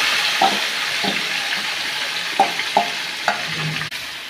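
Marinated chicken for biryani frying in a pan, a constant hiss of sizzling oil broken by a few sharp scrapes and taps of a spoon stirring, close and fairly loud.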